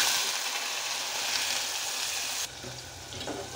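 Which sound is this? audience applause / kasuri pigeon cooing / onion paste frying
onion paste frying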